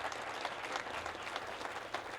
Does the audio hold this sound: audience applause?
yes